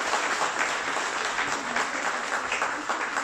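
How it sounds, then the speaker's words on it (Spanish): Brief burst of steady applause from a crowd, moderately loud and continuous. "Un fuerte aplauso, por favor"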